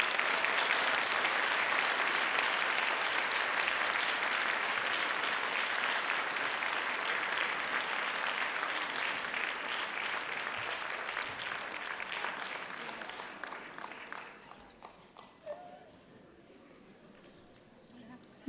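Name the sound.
audience applause for young singers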